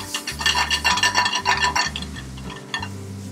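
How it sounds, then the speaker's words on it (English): Purple potatoes are sauteed in a restaurant kitchen pan, giving a steady sizzle with clinking and scraping from utensils on the pan over a low background hum. "And then we'll add our purple potatoes into this. We're going to saute this for 2 minutes."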